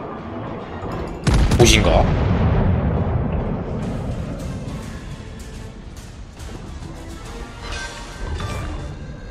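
A battleship's main gun salvo booms out in World of Warships, one sudden loud blast followed by a long rumbling decay, with someone talking over the tail of the sound.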